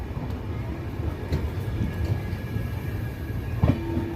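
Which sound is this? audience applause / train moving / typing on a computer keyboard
train moving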